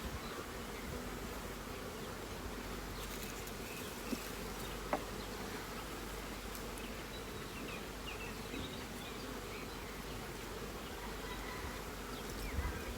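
Honeybees at a hive produce a continuous, even buzzing swarm drone, low in level and unbroken, with a few faint clicks and no talking.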